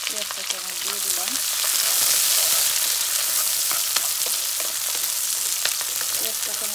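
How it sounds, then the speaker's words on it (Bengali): Onions sizzle and fry in hot oil in a pan, the first step of a boal fish curry; a steady, close crackling hiss runs throughout with small pops, and no one speaks over it. "পেঁয়াজটা একটু ভাজা ভাজা করব।"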